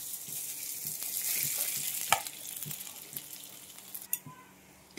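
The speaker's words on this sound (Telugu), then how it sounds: "ఇప్పుడైతే ఆయిల్ హీట్ అయింది కదా, ఈ నూడిల్స్ని ఇందులో వేసుకొని రెడీ చేసుకుందాం" Noodles tipped into hot oil crackle and sizzle in a steady, close frying hiss for a chicken noodles and eggs dish, with a few light clinks of stirring.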